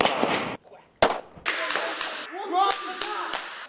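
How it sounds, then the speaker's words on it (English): Gunfire at a police recruits' shooting range: a rapid, irregular series of sharp, loud cracks, several shots in under four seconds, each with a short echoing tail. "Recruits will spend countless hours at the shooting range."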